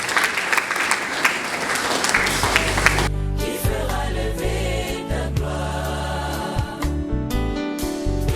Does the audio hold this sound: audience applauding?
yes